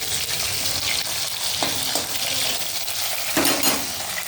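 Spiced masala with tomato being sautéed in a pan, a loud continuous sizzle with scraping stirring strokes and a few utensil knocks.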